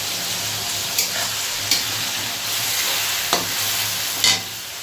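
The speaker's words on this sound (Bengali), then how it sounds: "ঝিঙে আর কুমড়ো দুটোই একরকম মোটামুটি নরম, সেই কারণে একটু নাড়াচাড়া করে তারপর কুমড়োটা দেবো।" Ridge gourd fries in a pan under a constant sizzle, while a spatula stirs it in several sharp scraping strokes spaced about a second apart; nobody speaks.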